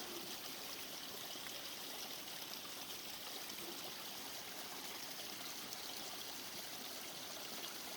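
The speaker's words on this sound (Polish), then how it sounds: "piękna muzyka ze strumyka" A babbling mountain stream in winter near Śnieżka, a steady, even wash of rushing, trickling water, close and unbroken throughout, with no voices.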